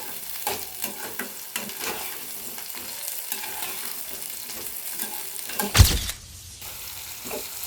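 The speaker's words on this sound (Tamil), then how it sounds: "இந்த மாதிரி நல்லா ஒரு 5 நிமிஷம் வதக்கிட்டே இருங்க" Small onions sauté in a pan with a steady, close sizzle and the soft scrape of a spatula stirring at an even pace, ending in a sharp clatter followed by a quieter hiss; nobody speaks.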